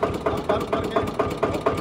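A tractor engine running steadily in a rhythmic chugging idle, its regular knocking pulses coming close and fairly loud, with no voices.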